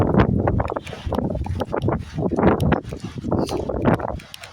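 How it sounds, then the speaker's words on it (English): A strong wind gust outdoors buffets the microphone with heavy, loud, uneven low rumbling that surges and eases over a few seconds. "That was a strong wind gust."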